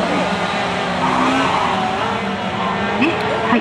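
A Honda Civic gymkhana car runs a timed course at a JAF Tohoku championship event, its engine loud and close with tire squeal rising near the end, while a voice talks over it.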